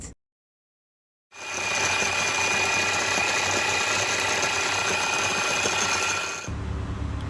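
A blender grinds torn-apart dried guajillo chilies for birria. After a brief silence it roars to life with a loud, steady whirring motor for about five seconds, then cuts off abruptly.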